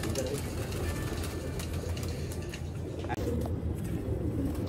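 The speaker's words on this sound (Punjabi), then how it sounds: "ਇਹ ਨੇ ਉਹ ਸਿਆਲਕੋਟੀ 35 ਵਾਲੇ ਕਬੂਤਰ" Sialkoti pigeons coo steadily and close by, a dense soft drone running the whole time over constant background noise, with no pause.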